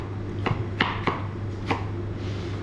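A knife chops onion and carrot into mirepoix on a board: four sharp, irregular cuts over a steady low hum, with no talking.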